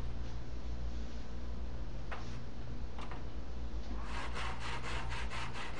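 A saw cuts into wood to make a CNC machine's Y-axis rail support, a pocket for linear slide bearings. Steady, loud rasping runs throughout, with a rhythmic pulsing stroke pattern in the final seconds.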